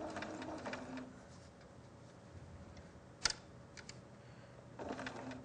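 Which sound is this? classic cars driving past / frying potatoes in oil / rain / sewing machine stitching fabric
sewing machine stitching fabric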